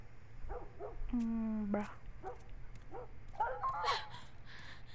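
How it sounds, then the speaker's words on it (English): Dog sounds from the video game The Last of Us Part 1: a few short yips and a drawn-out whimpering whine, close and fairly clear over a low steady hum, with a brief spoken word and game dialogue nearby. "Poor dog."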